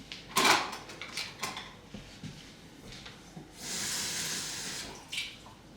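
Tap water runs from a kitchen faucet into a half-cup measure while stuffed waffle batter is being made, a steady hiss near the end after a few clinks of dishes and utensils, with no one speaking.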